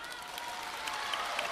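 Applause from a comedy crosstalk theater audience, a steady dense patter of clapping held at an even level throughout.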